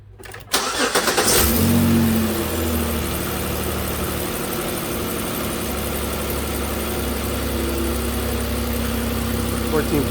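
A 2009 Pontiac Torrent cranks briefly, catches and starts, then settles into a steady, close idle hum that runs evenly to the end.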